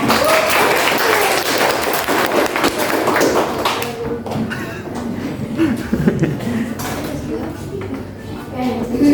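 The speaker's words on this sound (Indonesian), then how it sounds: "Please give applause to your friend." A classroom audience claps for a student after a speaking exercise, a steady burst of applause lasting several seconds that thins out toward the end, with a few voices mixed in.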